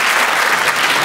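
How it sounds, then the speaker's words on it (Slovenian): Audience at a stand-up comedy show applauding on request, a dense, loud burst of clapping from many hands filling the room, with no voices over it. "Alo, prosim, sam zaploskate vsi,"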